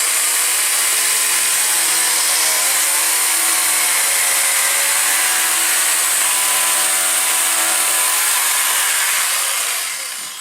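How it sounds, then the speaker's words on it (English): An electric jigsaw cuts an arc through a workpiece, producing a loud, continuous buzzing saw whine that holds steady and tails off near the end. "You place the jigsaw on the work and you can cut circles and all sorts of things with this"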